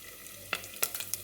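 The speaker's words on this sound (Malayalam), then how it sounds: "എണ്ണ ചൂടായിട്ടുണ്ട്. നമുക്ക് ജീരകം ഇട്ട് കൊടുക്കാം. വെളുത്തുള്ളി," Cumin seeds and garlic going into hot oil in a pan: a faint background hiss with a few sharp crackling bursts of sizzle, brief and close, with no voices.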